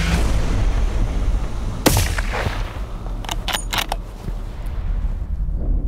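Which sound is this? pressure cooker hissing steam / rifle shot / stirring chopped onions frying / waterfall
rifle shot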